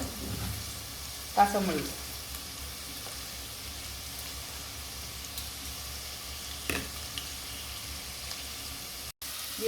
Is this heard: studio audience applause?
no